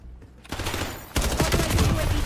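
Rapid bursts of automatic gunfire in a first-person shooter match, loud and dense, starting after a brief quiet moment and intensifying partway through with continuous overlapping shots.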